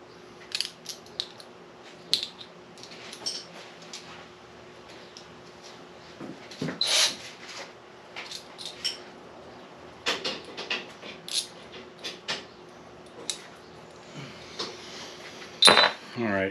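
Small metal tools clink and rattle in repeated bursts while someone rummages for a different size Allen wrench at an RC car workbench, the sound moderately close and fairly quiet.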